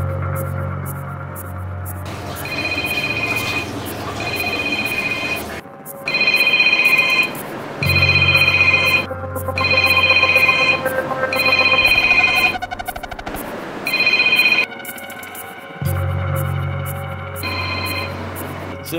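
A mobile phone ringtone goes unanswered during a short drama, a loud electronic tone playing in repeated bursts with brief gaps between them over a steady hum, continuing for nearly twenty seconds with no voices.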